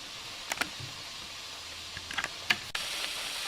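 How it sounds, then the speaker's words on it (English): Steady hiss of steam escaping a sterilizer valve, expelling water droplets, with a few sharp clicks and ticks scattered over it, close and moderately quiet. "You can hear the hissing, you can see some droplets of water being expelled by the steam pressure."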